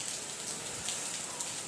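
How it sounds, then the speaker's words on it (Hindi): Heavy rain falling steadily on surfaces around a house, a dense continuous hiss with scattered drop patter, moderately loud and without pause. "ये देखो बारिश शुरू हो गई है"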